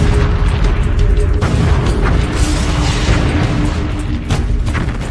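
Explosions and artillery fire in a desert tank battle between Egyptian and Israeli forces in the Sinai, a continuous heavy roar of blasts and rumbling bursts, loud and dense throughout with no pauses.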